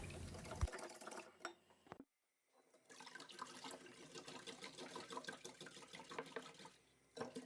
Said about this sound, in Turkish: 2 su bardağı içme suyu.